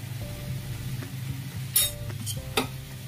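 A spoon stirs bubbling jaggery with turmeric and salt for mango pickle, giving low bubbling with a few sharp metallic clinks against the pan, close and moderately quiet over faint music.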